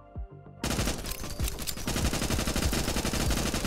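Automatic gunfire in the survival shooter game Nimrod Guncraft Survivor erupts after a short quiet moment into a relentless, loud stream of rapid shots and impacts that keeps building to the end.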